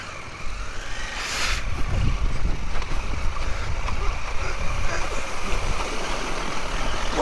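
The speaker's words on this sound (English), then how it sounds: "So when I went and did this water crossing here" A 2023 KTM Adventure R motorcycle rides through a water crossing, giving a steady loud rush of splashing water and engine rumble that starts after a brief quiet opening and continues throughout, close to the microphone.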